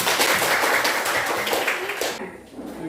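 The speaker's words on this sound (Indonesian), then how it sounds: "Tepuk tangan." A classroom of students claps together, a brisk, dense patter of hands at close range that carries for about two seconds and then cuts off abruptly into quiet.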